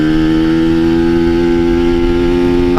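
A two-stroke Kawasaki Ninja motorcycle engine pulls on a steep climb, its steady, strongly tonal drone holding throughout before a brief rise in revs at the very end, loud and close with no talk.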